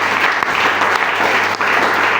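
A church congregation applauding during a revival service, loud sustained clapping from many hands that fills the room without pause.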